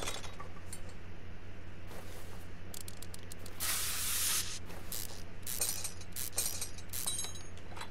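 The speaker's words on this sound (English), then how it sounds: "Now the stuck bolt. So we'll spray through the rad." Penetrating spray hisses in short bursts onto a stuck bolt behind a car radiator in a mechanic simulator game, with one longer spray in the middle and a low hum underneath.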